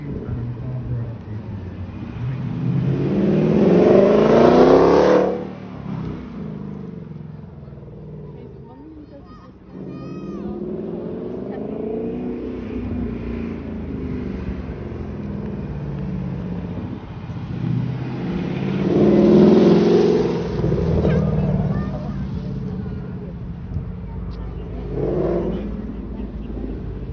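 Collector cars run in a vehicle display at Haynes Motor Museum, their engines rumbling and revving up in two slow swells before fading back, heard under ongoing talk.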